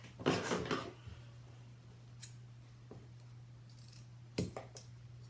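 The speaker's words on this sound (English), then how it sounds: "Oops, wrong scissors. No wonder it wasn't cutting, right?" The wrong scissors snipping at fabric without cutting cleanly: a quick cluster of metallic chops, then isolated clicks over a low background hum.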